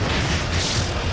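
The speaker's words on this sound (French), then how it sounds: "Wow, quelle explosion!" A loud, dense explosion roars across the whole short stretch, a sustained rumbling blast with no pause or break.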